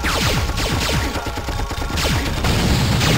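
Heavy gunfire in the PS1 game Apocalypse during the White House level, loud overlapping bursts and impacts running without pause for a few seconds, with no talk.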